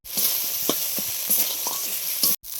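Turmeric and chili powder sizzle in hot frying oil, a bright, steady crackle punctuated by stirring scrapes, close and loud, with a brief dropout near the end.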